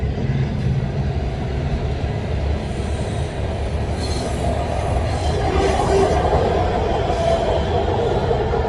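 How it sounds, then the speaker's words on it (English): A train rumbles past at close range, a loud, sustained roar of rail cars with wheel noise and faint squeals building toward the end, heard alone without talking. "I hate this damn train. I usually don't turn the camera around, but just to give y'all an idea of why I'm being quiet once the train goes by"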